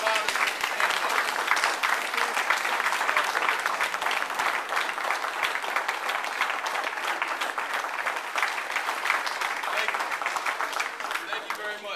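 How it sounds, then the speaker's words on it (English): A large crowd gives a standing ovation, applauding steadily and loudly throughout at a fatherhood support center event, a dense unbroken wash of clapping that holds for the whole stretch and tapers slightly at the end. "give a standing round of applause to all of the women in our lives"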